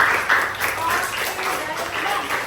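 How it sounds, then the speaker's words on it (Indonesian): Students in a classroom clap together in a brief, fairly even run of applause lasting a couple of seconds, with voices mixed in. "tepuk tangan dulu dong untuk kita"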